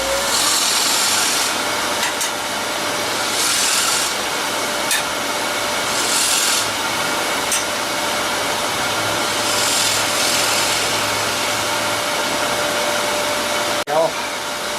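Drill boring a 3.5 inch hole into wood for a sculpted wine glass, a steady loud whirring grind with rhythmic surges of hissing bite as the bit cuts, and a sharp knock near the end.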